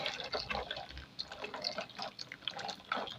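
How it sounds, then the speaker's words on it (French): Boiling water poured from a kettle over dried caterpillars in a bowl, a steady close splashing trickle with small drips that runs throughout with no one talking. "je vais prendre de l'eau bouillante que je vais verser sur mes chenilles"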